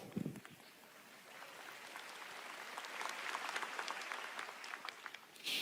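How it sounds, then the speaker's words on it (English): Audience applause at an Nvidia GTC Taipei keynote, a faint, distant patter of clapping that builds gradually over several seconds and stays low in level throughout. "A round of applause for math."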